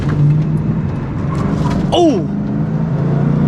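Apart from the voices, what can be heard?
Ford Mustang Cobra driving on twisty road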